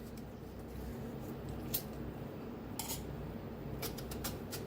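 A knife cuts through peeled mangoes for mango kadhi, giving a few sharp taps against the board spread across a steady low kitchen hum.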